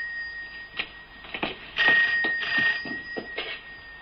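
An old telephone rings in a rooftop flat, sounding as a run of repeated bell bursts with a steady tone, close and fairly loud, with no talking over it.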